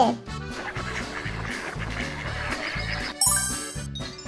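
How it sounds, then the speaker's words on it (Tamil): Duck quacking over a steady, bouncy music loop, the calls blending into the beat, with a bright tinkling burst near the end. "வாத்து."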